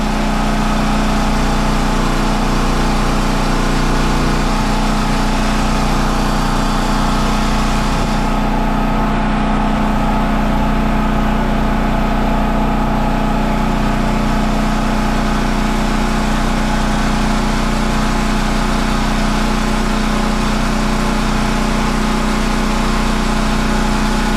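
An engine powers a pipe-threading machine on a soil remediation rig, a steady, loud mechanical drone that runs unbroken and close-up, with no talk over it.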